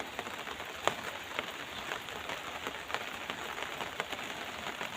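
Heavy rain falls steadily on a morning street in Thailand, a dense continuous hiss with scattered louder drops and splashes throughout, close and even in level with no voices.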